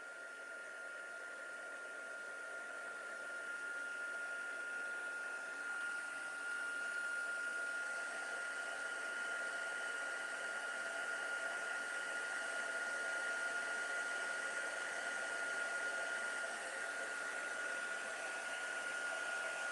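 A hair dryer blows a constant, even whooshing roar with a steady whine while drying a handmade pop-out flower birthday card, running alone for the whole stretch.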